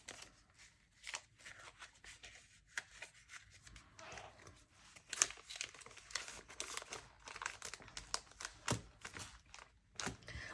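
Paper cash envelope being folded in half, a faint, close crinkling and rustling with soft creases and brief crackles scattered through the stretch.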